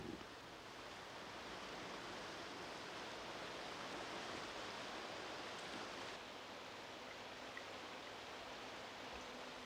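Rushing rapids of the Shotover River roar as a steady, dense wash of whitewater, heard from about 60 feet above with no breaks or voices.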